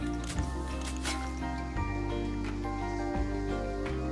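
A little water poured and dripping, a wet squishy trickle with small gurgles running continuously for a few seconds over a steady low hum.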